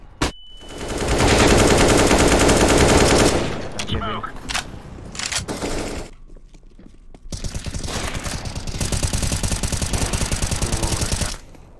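Rapid automatic gunfire in a video game, loud bursts of close shots in long sustained volleys, broken by a short lull and a few isolated clicks before another extended burst.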